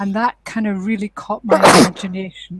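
A loud sneeze bursts out in the middle of a person's speech during a panel discussion, and the talking carries on afterward.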